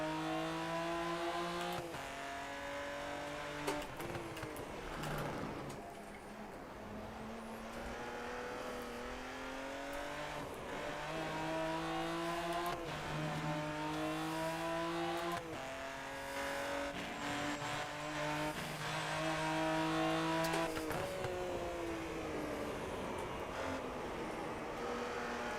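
A race car in the Rennaport racing game runs hard around a track. The engine rises through the gears in repeated climbing whines, broken by sharp shifts, lifts and downshifts, with occasional tire noise across a continuous, close run.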